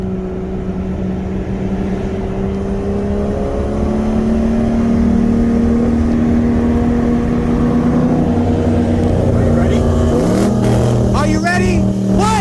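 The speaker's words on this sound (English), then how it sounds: "I'm in the BMW 340i, and first roll against the Charger is going to be from 40 miles an hour" Cabin sound of a 2018 BMW 340i with downpipe accelerating hard from 40 mph in a roll race against a 2019 Dodge Charger 392, loud rising engine drone, with a gear shift near the end.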